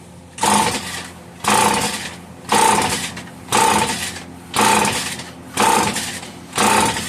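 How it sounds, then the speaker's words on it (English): An old Homelite 150 chainsaw being pull-started, its recoil cord yanked seven times in a steady rhythm, each loud rasping pull cranking the engine over without it catching. "I'm going to give her some pulls as is"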